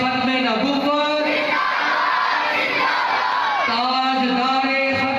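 A mosque congregation at a Milad gathering chants back a religious slogan in loud unison, several swelling shouted responses near and full, with a short break between waves of voices.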